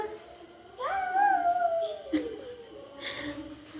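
A small child imitates a puppy's howl with one drawn-out, rising then falling vocal wail, close and moderately loud, followed by faint background voices.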